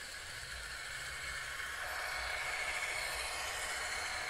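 A CN model train runs on an outdoor sundeck layout, giving a steady rail rumble and clatter with a continuous hum throughout, fairly close and unbroken by talk.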